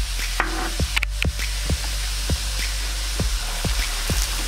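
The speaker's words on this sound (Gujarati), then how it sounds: "ઘી ગરમ થાય એટલે હવે રવો એડ કરીશું." Semolina roasting in hot ghee in a kadai, a soft continuous sizzle broken by a steady series of scraping stirs and light taps of a spoon against the pan, close and alone.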